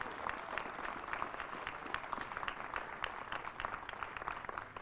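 Steady applause from an outdoor crowd at a Hawley semiquincentennial bell event honoring law enforcement, an even wash of many hands clapping at moderate distance.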